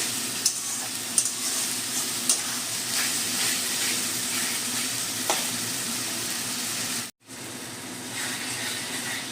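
Onion with ginger and garlic frying in a pan for a hotel-style egg curry, a steady close sizzle with scraping stirs throughout, broken by a brief pause near the end.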